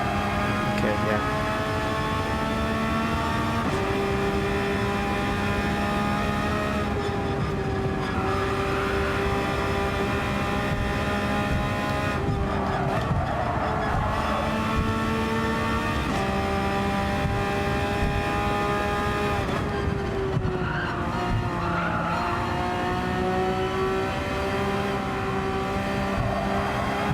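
Race cars lapping a circuit, engines droning and rising in pitch as they pass, a steady blended roar throughout with speech over it.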